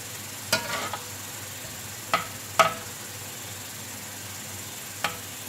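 Onions frying until light brown, a faint low sizzle running throughout, interrupted by a few sharp clicks and scrapes of stirring spaced irregularly.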